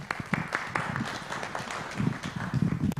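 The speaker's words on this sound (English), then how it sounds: "Let's give them a better round of applause" Applause from a conference audience for a panel of speakers, a steady patter of many hands clapping close by for about three seconds, with a few louder claps near the end.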